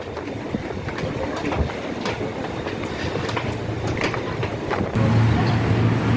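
A Jakarta KRL commuter train on the Loop Line rumbles past close by, a steady heavy roar with rhythmic clacking from the wheels, and a low droning hum joins near the end.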